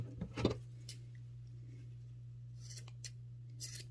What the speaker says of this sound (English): And you can trim the edges if you want to a little bit more.